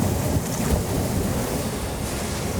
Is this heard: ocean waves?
yes